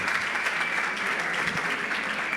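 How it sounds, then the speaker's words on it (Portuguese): A church congregation applauds, a dense, steady burst of clapping from many hands that fills the whole short stretch without a break. "Vale até um aplauso ao pessoal do Cabana."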